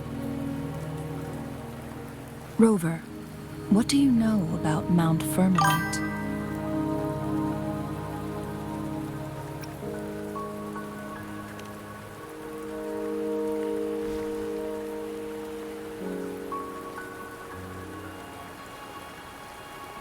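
Rain falling in Wuthering Waves, a soft continuous patter under swelling game music, with a voice speaking briefly near the start.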